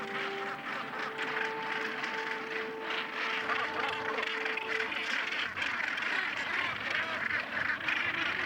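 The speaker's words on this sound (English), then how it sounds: "Nearby on Bonaventure Island lives the world's largest colony of gannets." Seabirds in the gannet colony on Bonaventure Island call as a dense, continuous chorus of harsh overlapping cries, steady and moderately loud throughout, with a faint tonal hum in the background early on.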